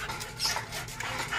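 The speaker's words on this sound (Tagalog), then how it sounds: "ito ang aso ko" A recovering dog being treated at home for parvovirus breathes and pants close by, with short whimpering sounds in a steady, moderately loud stretch.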